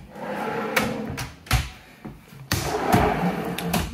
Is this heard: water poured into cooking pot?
no